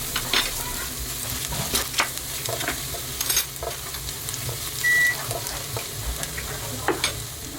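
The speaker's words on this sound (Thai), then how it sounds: "เทน้ำมันลงไปกระทะ เจียวกระเทียมให้หอมก่อนได้เลยนะครับ" Chopped garlic sizzles in hot oil in a wok, cooked before stir-frying pickled mustard greens with egg, a steady crackling fry broken by repeated scraping stirs of a spatula and one brief electronic beep.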